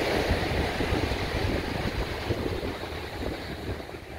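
Sea waves wash steadily at Balneário Camboriú beach, Barra Sul, on Brazil's coast. A loud, continuous surf roar is heard up close and alone, with wind noise.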